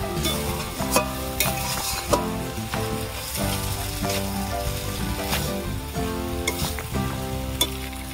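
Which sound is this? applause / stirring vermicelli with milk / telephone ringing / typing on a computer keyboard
stirring vermicelli with milk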